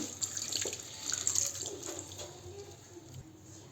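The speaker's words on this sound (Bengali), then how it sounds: "এবার ছানাটাকে এইভাবে আমরা কাপড়ের মধ্যে নিংড়ে নেব যাতে জলটা বেরিয়ে যায়" Chhena (fresh curdled milk cheese) wrapped in cloth is wrung out, releasing a faint, close trickle and patter of water that swells briefly and then eases off, with no talking.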